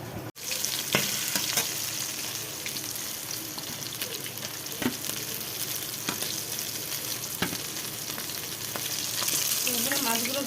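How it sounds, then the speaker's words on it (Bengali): Fish pieces fry in a pan for a banana fish curry, giving a dense, steady sizzle with occasional spatula knocks and scrapes, near and unbroken by speech. "এইভাবে লাল লাল করে আমি মাছগুলো ভেজে নিয়েছি"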